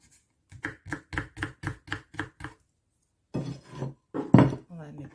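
A knife chops garlic coarsely into small pieces on a board while a Thai basil beef stir-fry is prepared. Nine crisp, evenly spaced strikes sound close up, followed by a person talking.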